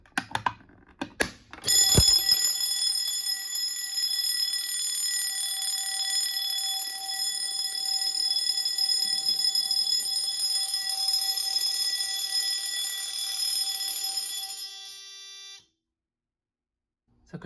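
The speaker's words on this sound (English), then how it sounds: "for the notification appliance, a system sensor SSM24-6 vibrating bell" A System Sensor SSM24-6 vibrating bell wired to a Notifier CRL-124 non-coded fire alarm panel rings loud and continuous for about fourteen seconds, with a harsh metallic buzz. A few sharp clicks come before it, and it cuts off abruptly into silence.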